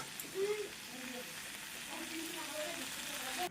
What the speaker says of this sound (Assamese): মই মছলাখিনি দি কিনে চব্জিখিনি এনেকৈ ভাজা হৈ গ'ল